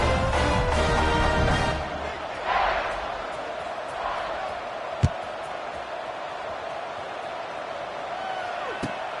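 Football stadium crowd cheering at a kickoff. A loud roar opens the moment and eases into a lower, rumbling murmur, with a couple of sharp thuds and what sounds like talk from a commentator.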